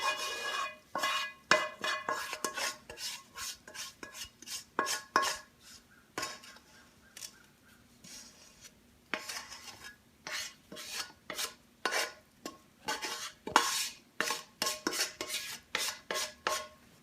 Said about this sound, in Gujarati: હવે આપણે એક ચમચો લેશું અને એને ફાઇન રીતે હવે પાથરી નાખશું કે સેટ થઈ જાય.